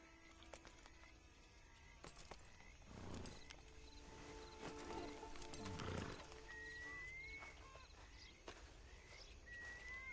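A horse in the Red Dead Redemption 2 Online video game snorts and whinnies faintly over outdoor ambience with birdsong and a few hoof clops. No one speaks.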